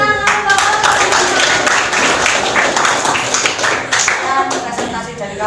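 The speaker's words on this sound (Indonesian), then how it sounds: "Tepuk tangan" Group hand clapping from an audience after a student presentation, a loud, fairly dense patter of claps continuing throughout with some voices mixed in.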